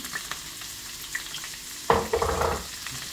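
Chopped onions dropped into a thin layer of hot oil in a pan, giving a sudden burst of sizzling partway through that settles into steady close frying crackle, with quiet kitchen handling beforehand and no voices.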